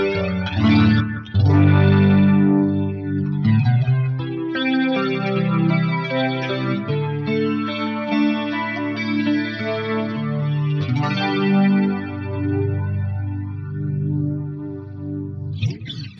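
An electric guitar plays chords and notes through an EHX Stereo Electric Mistress chorus/flanger pedal, the tone swirling and sweeping with steady modulation, heard clearly and alone for about sixteen seconds.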